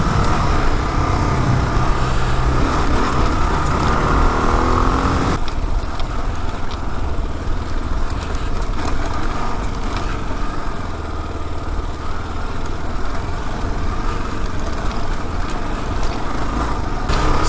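A 2022 Kawasaki KLR650 ABS motorcycle ridden off road, its single engine droning loudly and steadily up close with wind rush, easing slightly in tone after the first few seconds.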